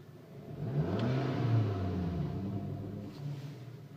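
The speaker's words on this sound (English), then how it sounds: "This is just started up on tickover and just revving it." A VW Golf GTI Edition 30 engine with a Revo intake kit revs up from idle with a throaty intake whoosh, rising and falling in a couple of swells, fairly close and alone.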